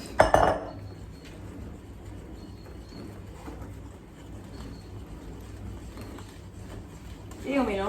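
Muffin batter with flour being stirred in a bowl, a soft continuous scraping and sloshing, with sharper clinks of utensil against the bowl at the start and end.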